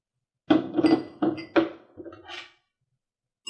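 A whisk beats honey and a pinch of kosher salt together in a bowl, giving a quick run of distinct metallic clinks and scrapes that fade out, then one more faint tap after a pause.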